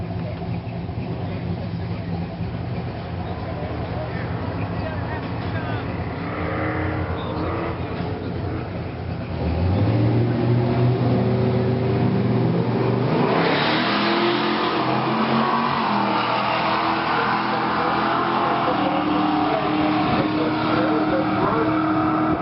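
Ford Mustang cars launch and race down a drag strip, engines rising into a loud roar that revs hard and holds, while an announcer talks over the sound.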